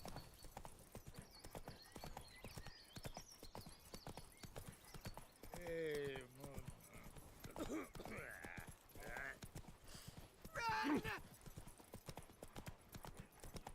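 Roach, a horse in The Witcher 3, gallops with fast, steady clip-clopping hoofbeats, broken by a couple of short whinnies. The sound is quiet overall.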